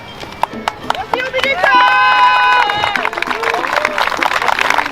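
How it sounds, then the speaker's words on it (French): Applause from an audience at an end-of-campaign picnic, a dense burst of clapping and cheering that swells and then thins out, with voices mixed in. "Vous pouvez vraiment vous applaudir"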